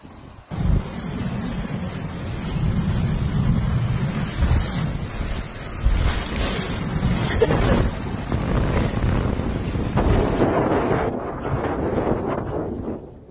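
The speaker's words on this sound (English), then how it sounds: "The storm brought severe wind gusts exceeding 100 kilometers per hour, crippling communication services." Severe snowstorm wind gusts roar through an Alpine ski resort, loud and buffeting against the microphone in steady rushing waves with sharper surges, no voices heard.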